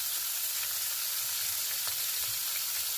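Burger patties frying in a pan, seasoned with salt, pepper and herb salt, giving a dense, steady, close sizzle that holds an even level throughout with no voices.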